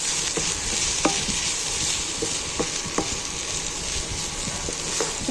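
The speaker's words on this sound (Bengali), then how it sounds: "এবার আমি এটাকে ভালো করে নাড়ব" Food sizzles and fries steadily in a pan while a utensil stirs it, scraping and tapping against the pan in irregular strokes, close and fairly loud, with no voices.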